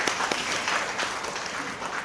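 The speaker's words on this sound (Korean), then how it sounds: "우리 축가자분께 다시 한번 힘찬 박수 부탁드립니다." Wedding guests clap for the singer of a congratulatory song at a ceremony, steady dense applause throughout with no talk over it.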